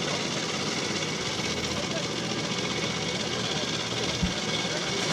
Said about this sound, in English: Mary Roberts from Ledbury on her Little Rex Acme, Birmingham built Acme, 250cc 2-stroke